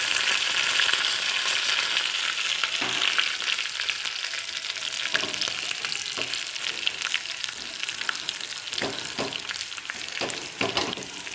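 Garlic and curry leaves sizzle in a hot pan, a continuous crackling fry with scattered sharp pops and occasional stirring scrapes, close and fairly loud, no talking.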